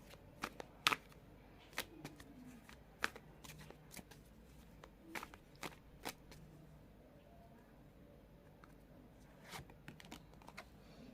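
Tarot cards being shuffled and drawn during a card reading: a steady run of soft, papery riffles and sharp flicks and snaps, close and fairly quiet, with no talking.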